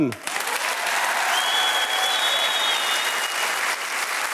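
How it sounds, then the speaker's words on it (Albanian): Steady applause from an audience, a dense wash of clapping that starts abruptly and holds at an even level throughout. "Kjo duartrokitje është për të dhe për detyrën e saj të re."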